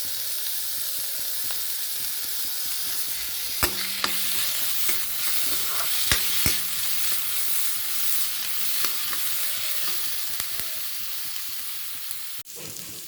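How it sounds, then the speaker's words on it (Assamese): Ginger garlic paste sizzles steadily as it fries in oil in a pan, with a constant close hiss broken by occasional clicks and scrapes of stirring, and no voices. "এতিয়া ইয়াতে মই আদা নহৰু পেষ্টটো দি দিছোঁ।"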